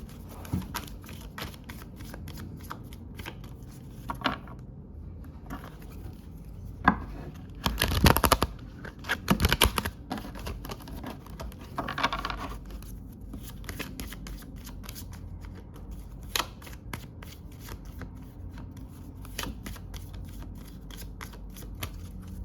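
Tarot cards being shuffled by hand, repeated crisp riffling and flicking in close bursts, a louder flurry in the middle, with no talk.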